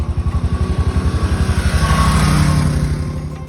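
Royal Enfield motorcycle climbing a snowy Himalayan mountain pass, its engine thumping in a steady pulsing rhythm close by, rising and holding, then easing slightly toward the end.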